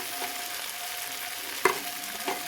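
Vegetables sizzle in a pan under a low frying hiss as a utensil stirs them, with a couple of distinct scraping knocks, and no voices.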